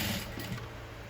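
Quiet, brief whir of a sewing machine stitching a blue V-neck garment with a criss-cross back, a soft mechanical hum that fades out within a second.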